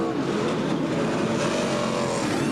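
A smoking NASCAR stock car engine at the 2001 Cracker Barrel Old Country Store 500 drones steadily at high revs, a loud continuous roar with no speech.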